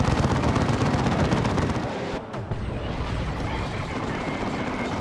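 Continuous heavy booming barrage of assault cannon fire in Warhammer 40,000: Dawn of War II, dense and rumbling with rapid overlapping blasts, briefly dipping before resuming.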